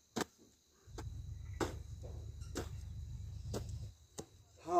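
A hoe digging into soil to prepare a bed for planting onions outdoors: a series of sharp, evenly spaced chopping strikes about once a second, close and moderately loud, over a faint low hum and insect chirping.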